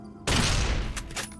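Gunfire in the video game Fallout: New Vegas, Old World Blues, a sudden loud burst of rapid shots lasting about a second, close and alone.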